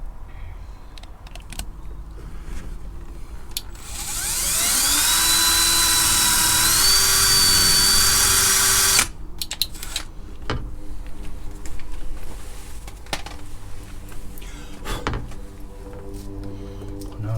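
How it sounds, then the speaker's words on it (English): A loud electric drill drilling a hole through a cab side blind hinge whines steadily for about five seconds, its pitch rising as it spins up, then cuts off abruptly, leaving quieter handling noises. "I'm going to have to drill a hole there."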